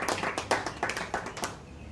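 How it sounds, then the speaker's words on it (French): Scattered applause from a small audience at a conference on books and scientific research, a handful of distinct claps in an uneven rhythm, close and moderately loud, tapering off. "On peut applaudir, s'il vous plaît."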